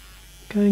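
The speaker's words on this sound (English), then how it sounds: "Slowly shaving right underneath." An electric shaver switches on halfway through, a close, steady buzzing hum that starts abruptly after near silence during a slow, careful shave.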